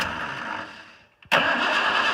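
A Jeep TJ engine with its choke plate held closed runs roughly, sags nearly to silence, then catches abruptly and settles into a loud, steady idle close by.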